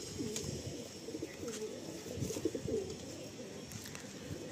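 Several Madrasi pigeons, including white females, coo softly and repeatedly at a Kolkata sale, low rolling calls overlapping over a constant hum.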